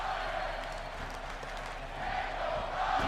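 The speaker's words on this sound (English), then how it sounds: "WWE fans cheering on Daniel Bryan" Arena crowd in WWE 2K17 cheers for Daniel Bryan at a RAW show in Erie, PA, a steady mid-level roar of voices swelling slightly toward the end.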